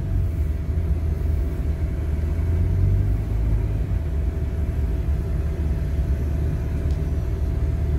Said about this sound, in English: Oh, and I got the old Dodge back. So you can hear a rumble.